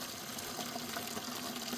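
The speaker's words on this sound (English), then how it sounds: "So you turn this to drain, and there we go." Gray wash water draining out of a small portable laundry washer inside a van, a steady, even gushing flow heard close up with no voices.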